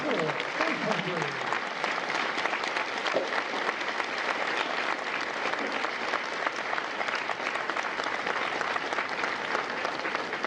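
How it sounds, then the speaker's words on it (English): Sustained, dense applause fills a hall at a Marine recruit graduation at MCRD San Diego, a loud, even wash of many hands clapping that continues unbroken throughout, with a voice briefly audible at the start. "A round of applause for the dedicated service before our country."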